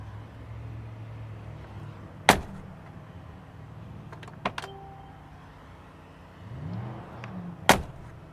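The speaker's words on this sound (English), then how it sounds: "the sound they make when you open and close the door." A Mercedes-Benz AMG G63 door thuds shut, followed by the click and latch of it opening, then another solid slam a few seconds later amid quiet engine hum.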